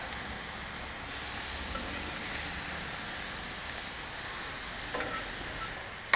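Ground beef sears on a flat griddle for cheesy BBQ sloppy joes, giving a steady broadband sizzle with a few sharp scrapes near the end as a spatula chops and flips the meat.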